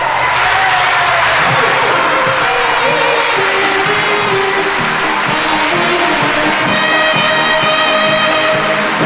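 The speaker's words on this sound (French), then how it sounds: "je crois qu'on peut lui donner un tonnerre d'applaudissements" A circus audience applauds loudly and close by, the clapping mixed with cheering and tonal music or whistling, and voices are audible in the crowd.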